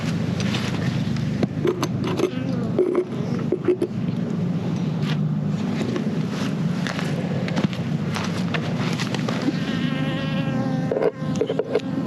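Honeybees buzzing around a hive in freezing arctic weather, a steady close droning hum of many wings that fills the whole stretch without a break.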